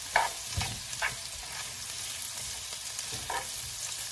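Chopped onion sautés in a hot pan for a Panamanian Johnny Marzetti pasta, giving a soft, steady sizzle with a few light stirring scrapes and clacks scattered through it.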